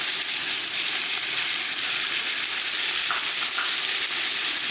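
Spices, turmeric and ginger-garlic paste with green chilli fry and are stirred in a pan for bhindi, making a constant close-up sizzle with a few soft scraping touches.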